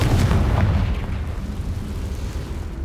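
A Confringo blasting spell explodes in the Hogwarts Legacy video game, a loud, heavy boom at the start that rolls into a long, rumbling decay.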